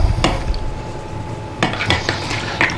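All-purpose flour being mixed gently into a yeasted German bread dough in a bowl, with a few clinking utensil-on-bowl knocks and soft scraping over a steady low hum.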